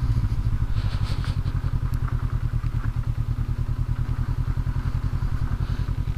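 A 2019 Honda CB500X rides slowly over loose pea gravel, its engine running steadily with a low, rhythmic pulsing throb close up and faint crunching and rattling from the loose stones underneath.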